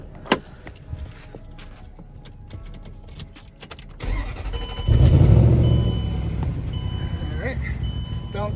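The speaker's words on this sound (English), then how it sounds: "we're gonna start it up, make sure everything's fine." A 2006 Range Rover engine cranks and fires up, the starter whirring before the engine catches into a loud, rough idle that settles steadily, recorded close with a voice speaking beforehand.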